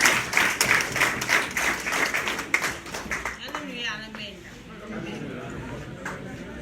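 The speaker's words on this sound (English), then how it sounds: "give them again and again and again a round of applause" A crowd at a political alliance announcement rally claps in a burst of quick, rhythmic applause that fades after about three seconds, giving way to someone speaking over a microphone.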